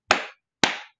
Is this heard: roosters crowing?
no